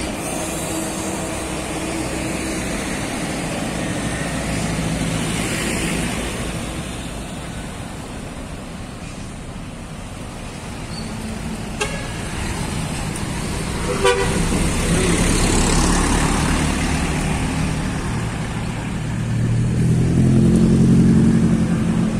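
A tour bus rumbles past on the road and sounds its horn in a few tooting blasts, loud against steady traffic noise.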